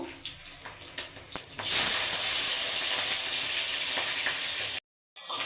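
Dried red and green chillies, a bay leaf and tomato drop into hot mustard oil and burst into a loud, steady sizzle and hiss that holds for several seconds before cutting out abruptly.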